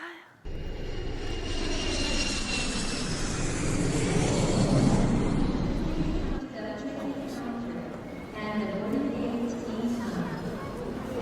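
A stage play's airplane engine sound effect swells into a loud, steady roar for about six seconds, then cuts off abruptly. Softer noise and voices follow.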